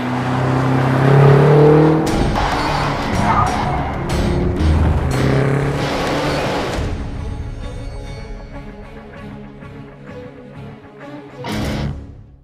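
A 2015 BMW X6 M on the Portimao racetrack, its engine loud and close as it accelerates with rising revs, then fading to a quieter idle-like rumble before a brief surge near the end.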